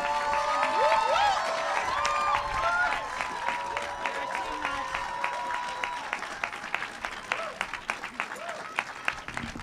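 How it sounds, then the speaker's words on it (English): An audience at a groundbreaking ceremony for an arts academy applauds, with cheering and voices over sustained clapping that thins into scattered individual claps toward the end. "let's give her a resounding round of applause."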